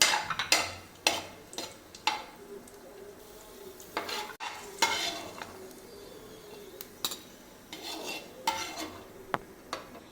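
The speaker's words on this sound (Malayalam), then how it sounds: "നമുക്ക് റൈസും വറുത്തെടുക്കണം അണ്ടിപ്പരിപ്പ് ഇട്ട് കൊടുത്തിട്ടുണ്ട് മുന്തിരിങ്ങ ഇട്ട് ഒന്നിച്ചങ്ങ് വറുത്ത്" Rice frying with cashews and raisins in a pan, with a faint sizzle under repeated scraping stirs and light clinks of a utensil against metal, quiet and close.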